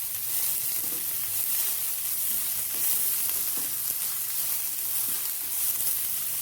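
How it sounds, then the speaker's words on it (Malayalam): Finely chopped onion sautés in hot olive oil with a continuous, even sizzle and faint stirring scrapes, close by and with no talk. "ഒരു ചെറിയ സവാള ഞാൻ ചെറുതായിട്ട് അരിഞ്ഞതിനകത്ത് ഇട്ട് കൊടുക്കാം. നല്ലതായിട്ടൊന്ന് വഴറ്റാം."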